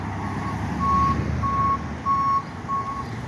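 Tow truck reversing beeps at an early morning accident scene on Blue Hill Ave, four evenly spaced loud beeps over a steady low engine rumble, with no talking.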